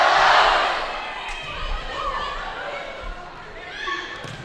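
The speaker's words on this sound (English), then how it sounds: "The Griffin crowd's getting into it." Home crowd at a high school volleyball match, Los Alamitos against Edison, roars loudly at first, then settles into a steady indoor din of cheering and chatter, with a second swell near the end.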